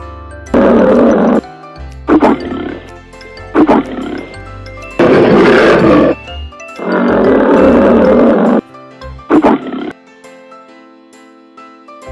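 A lion roars in a series of loud, deep bursts, five or six rumbling calls with short pauses between them, close and alone with no talk.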